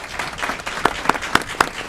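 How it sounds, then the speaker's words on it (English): Audience applause at a city council meeting honouring a Puerto Rican queen and little queen court, a short burst of fairly close clapping with a few sharp individual claps standing out. "We can give them a round of applause, please."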